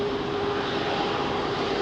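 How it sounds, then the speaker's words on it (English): British Airways Boeing Dreamliner at London Heathrow, runway 27R, a steady broadband jet roar with a faint held tone, continuous and fairly distant, no voices. "This is a Dreamliner, Kathy."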